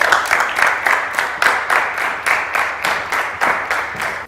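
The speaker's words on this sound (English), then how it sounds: "please, a round of applause for Dr." Studio audience at a health talk show giving a round of applause: a steady, dense run of hand claps with a quick, regular rhythm that keeps a fairly even loudness from start to finish.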